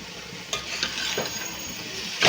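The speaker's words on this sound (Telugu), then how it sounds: "ఇప్పుడు ఇవన్నీ ఫ్రై అయ్యేటట్టు కలిపేసుకోవాలి" Spices and ginger-garlic paste sizzle and fry in a pan while a utensil stirs them, giving steady close crackling broken by a few scraping strokes and a louder scrape at the end.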